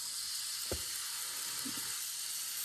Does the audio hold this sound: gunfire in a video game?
no